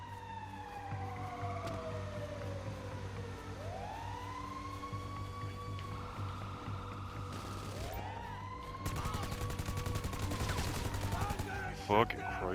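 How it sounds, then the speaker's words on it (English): First-person shooter gameplay with bursts of gunfire and crackling shots, and whooping siren-like sweeps running through the mix. "You gotta go out and just shoot"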